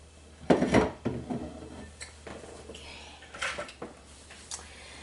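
Metal sheet pan and piping bag fetched and handled in a home kitchen while making chocolate chip cookies: a few close clanks and knocks of pan and utensils, then lighter clinks and rustles, with no talk.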